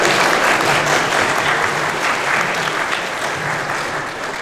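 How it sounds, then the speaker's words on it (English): Loud, dense applause from a convention crowd at an Anime North 2019 panel on Fire Emblem, a steady wash of many clapping hands that fades slightly near the end. "thanks for the applause"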